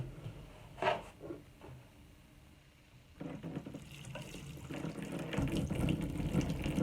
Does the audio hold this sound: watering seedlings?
yes